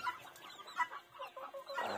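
Two pet hens, one white and one black, cluck softly and irregularly up close in a quiet yard, with short low calls scattered across the moment and no talking.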